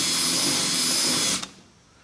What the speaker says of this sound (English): Put another drill bit on now.